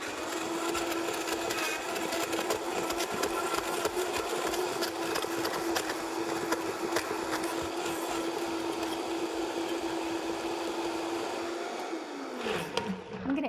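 Vitamix blender running at steady speed on a seed and coconut pancake mix, a continuous loud whirring motor hum that winds down and stops near the end.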